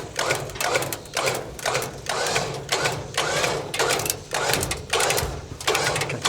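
Winch hauling an abandoned, nature-overgrown 1962 Ford school bus, giving off a regular, rapid mechanical clatter of evenly spaced bursts, close and fairly loud.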